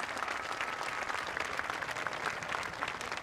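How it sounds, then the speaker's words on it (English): An audience gives a sustained round of applause at a public event in La Paz, a dense, steady wash of many hands clapping at even loudness throughout. "I'd like you to give them all a round of applause."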